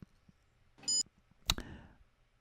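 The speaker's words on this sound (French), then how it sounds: "il fait un bip toutes les 10 secondes" A timer cube gives a single short electronic beep, followed moments later by a sharp click and a brief rattling clatter in a quiet room.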